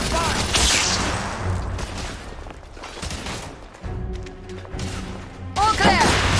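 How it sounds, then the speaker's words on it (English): Suppressive gunfire in a Victorian-era firefight from the video game The Order: 1886, with bursts of rapid shots and crashing impacts running throughout and mixed with game speech and shouting. "lay down suppressive fire!"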